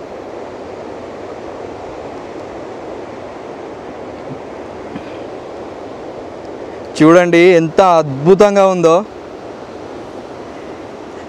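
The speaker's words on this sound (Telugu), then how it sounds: "అలలు మాత్రం హెవీగా వస్తున్నాయి" Heavy ocean waves break steadily on Chidiya Tapu Beach in the Andamans, a broad continuous wash of surf heard through surrounding trees, with a voice talking over it for a couple of seconds.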